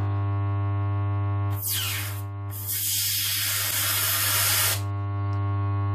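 A 6 kW carbon arc lamp at maximum current gives a steady loud electrical buzz with a strong low hum, broken by a burst of harsh hissing crackle as the arc flares, then settling back.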